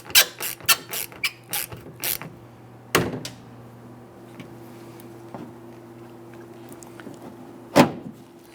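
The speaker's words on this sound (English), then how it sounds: "Let's go ahead and snug down that Torx bit screw there." A Torx screw is snugged down on the rear door latch of a 2011-2019 Ford Explorer, giving a quick run of close mechanical clicks followed by a couple of isolated clunks against a faint steady hum.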